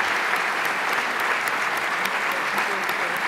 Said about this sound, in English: Give her a round of applause for filling in at the very last second.